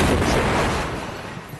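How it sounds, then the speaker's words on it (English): A bomb blast in Baghdad, caught by a nearby television crew: a loud, broadband boom that fades away over about a second and a half. "Iraqi soldiers jumped on the bomber as the blast was recorded during this television interview."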